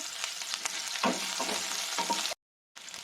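Chopped green chili and garlic fry in a pan, a continuous crackling sizzle with occasional stirring scrapes, then a brief cut to silence before the sizzle resumes.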